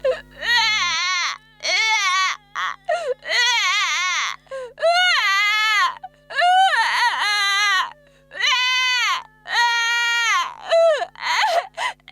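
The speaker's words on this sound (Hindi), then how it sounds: "हाँ, शिशु के रोने की ध्वनि।" An infant cries loudly in repeated wailing bursts with short gasping pauses, close and continuous for the whole stretch.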